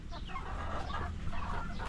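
Dekalb White laying hens cluck and murmur close by in short, overlapping bursts, with a low rumble of background noise underneath.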